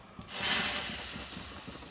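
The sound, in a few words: mustard seed tempering poured into curry, sizzling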